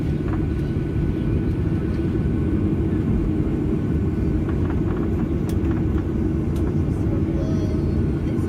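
Low, continuous jet engine rumble heard from inside a Ryanair Boeing 737-800 waiting at Stansted airport while other aircraft take off nearby, a steady heavy drone with faint higher tones above.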